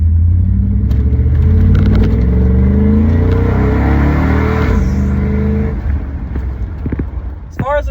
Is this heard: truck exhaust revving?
yes